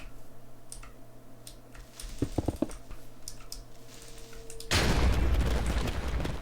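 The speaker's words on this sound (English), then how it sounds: "That's a pretty large explosion." A large explosion in Minecraft bursts suddenly after a few seconds of quiet clicking and small thuds, a loud broadband boom that sustains to the end.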